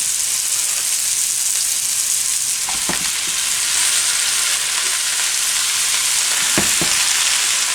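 Swiss chard sizzles and wilts in a hot pan, a steady, loud frying hiss with no break, broken by a few soft clicks of stirring near the middle and end.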